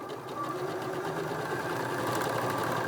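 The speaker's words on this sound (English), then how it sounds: "So then just start sewing." A sewing machine with a quarter-inch foot runs in one steady stitching drone, close and continuous, with no voices.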